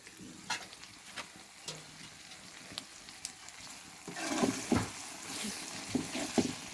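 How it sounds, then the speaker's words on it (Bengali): Chicken meat cooking with potatoes in a pan gives a low, steady sizzle with scattered stirring scrapes and clinks, growing busier and louder partway through; no voices. "মুরগির গোশত রান্না করছি।"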